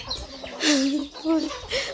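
Chickens cluck in repeated bursts close by, loud and clear, with a second call answering after a short gap and faint background noise between.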